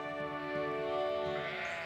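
Sheep bleat on open grazing land, a loud, wavering, nasal cry that rises and stretches across most of the moment, with other bleats overlapping nearby.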